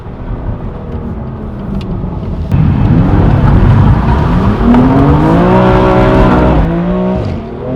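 A BMW M2 Competition engine roars up close, revving higher as it accelerates hard, its pitch climbing steadily before easing off near the end.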